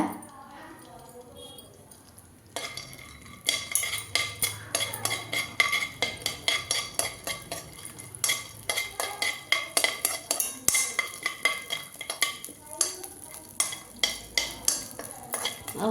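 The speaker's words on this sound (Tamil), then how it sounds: "முந்திரி கொஞ்சம் வறுத்து அதுக்கு ஆட் பண்ணிக்கலாம் பாருங்கள் லைட்டாக அப்படியே வறுத்துக்கலாம் நெய்யில்" Cashews roast in ghee in a pan while a utensil stirs and scrapes them in quick, steady strokes over a soft sizzle, close and fairly loud, with quieter frying at the start.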